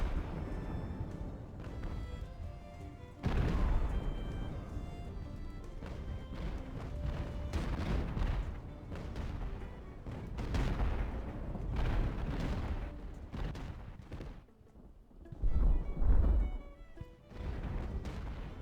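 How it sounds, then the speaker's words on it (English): Mortar fire and cannon blasts in the naval battle game Ultimate Admiral: Age of Sail, set at the Siege of Toulon, with repeated booming thuds and a heavy close blast near the end over continuous battle noise. "how effective a mortar is. Like some people have written that they don't like mortars, but mortars are excellent."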